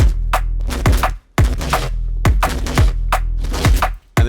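Granular resampled neuro bass patch from a Phase Plant synthesizer, a series of loud, growling plucked bass hits with sweeping downward tails, played in a choppy rhythm with short gaps.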